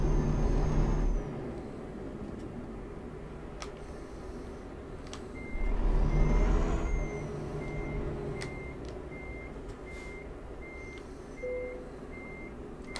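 Truck in Euro Truck Simulator 2 reversing to couple a trailer: a low diesel rumble with brief air hisses, then a steady run of evenly spaced high reversing beeps that carries on for several seconds.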